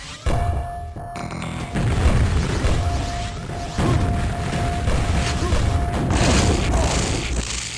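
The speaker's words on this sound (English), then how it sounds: "right then you shot 2 grenades" Grenades explode in the Quake video game, several heavy booming blasts in succession over a constant mechanical hum.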